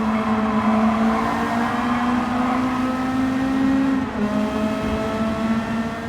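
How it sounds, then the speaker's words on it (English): Honda Civic Si Extra engine in Gran Turismo 7 holding a loud, steady rev with a sustained tonal drone and a brief dip near the end, with no talk over it. "this boxy brute features an overtly boisterous engine sound"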